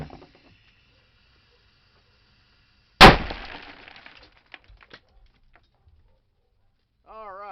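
A civilian legal flash bang grenade goes off in a single loud, sharp blast that cracks suddenly out of near silence and rings down over about a second, followed by scattered faint ticks and a brief voice.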